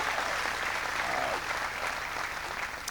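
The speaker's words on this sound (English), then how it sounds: "Give him a big round of applause." Crowd applause at a presidential speech at NC State, a dense loud wash of many hands clapping that holds steady then eases slightly toward the end.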